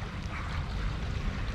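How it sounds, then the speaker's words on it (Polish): Motorboat passing on open water, a steady broadband rumble and wash heard at a moderate distance, without clear pulses, lasting the whole short stretch with no talking. "Co to było? Motorówka? Taka motorówka?"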